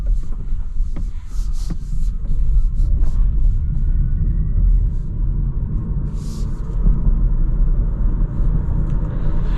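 Inside a 2022 Hyundai Kona Electric cruising on the highway, a loud, constant low road rumble and tire drone fill the cabin, with a few faint clicks and no talking.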